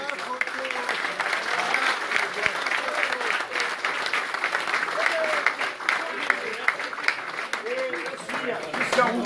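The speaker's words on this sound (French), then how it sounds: "je voudrais qu'on les applaudisse" Steady applause from an indoor audience at a club partners' day, a dense patter of many hands clapping at moderate distance that continues evenly throughout.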